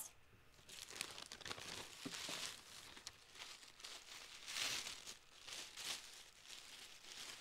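Crinkly tissue paper rustles and crumples in bursts while a pair of Lilly Pulitzer shorts is unwrapped, close and fairly quiet, with no talking.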